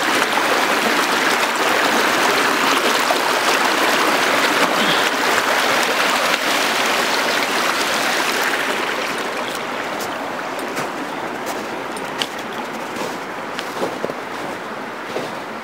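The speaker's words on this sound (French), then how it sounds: "Ah, la rivière, le torrent." Mountain river torrent rushing steadily in a dense, hissing wash of water, loud and close at first and then slightly softer, with a few faint knocks near the end.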